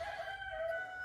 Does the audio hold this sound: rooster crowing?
yes